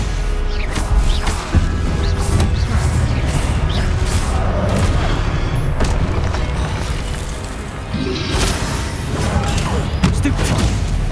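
Spell blasts in Hogwarts Legacy combat, a dense barrage of booms, cracks and crashing impacts in quick succession, loud and continuous with sharp transient hits throughout.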